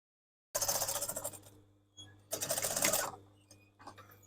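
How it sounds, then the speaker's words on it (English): A sewing machine top stitches across a denim jacket lining in two quick bursts of rapid, rhythmic needle clatter separated by a short pause, close and fairly quiet, ending with a few soft clicks. "I'm literally just going to be top stitching all the way across."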